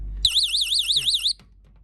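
A cheap door and window anti-theft alarm blares a loud, warbling, high-pitched electronic tone for about a second, then cuts off abruptly after a brief click.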